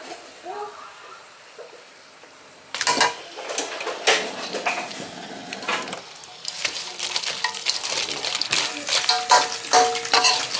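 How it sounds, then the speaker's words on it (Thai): Chili paste and ruby tilapia fish from the Mekong River are stir-fried in a pan, heard as sizzling with repeated metallic scrapes and clinks of a utensil against the pan, starting quietly and growing busier and louder. "ต้องคั่วเรื่อยๆเลยครับคั่วเรื่อย ๆ ไม่งั้นจะไหม้ครับ"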